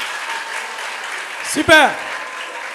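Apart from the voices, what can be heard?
audience applause for team score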